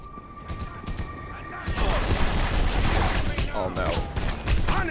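Rapid gunfire rattles through a shootout in The Punisher video game, bursts of shots continuing loudly over several seconds with voices talking underneath.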